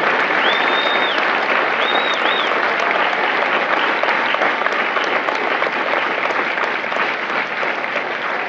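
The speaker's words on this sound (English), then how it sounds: "Ladies and gentlemen, a round of applause for their dedicated service to Corps and country." Audience at a Marine Corps recruit graduation ceremony for Mike Company at MCRD San Diego gives the new Marines sustained, loud applause, a dense steady clapping that fills all eight seconds with a few brief whistles near the start and no talking.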